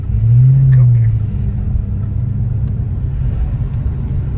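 A Foxbody Mustang 5.0 GT V8 with a misfire idles roughly, a loud, close, low rumbling drone with an uneven pulse that swells briefly early on.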